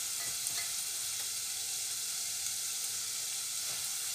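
A doughnut fries in hot oil with a steady, close bright sizzle and crackle that holds even and unbroken throughout, with no voices.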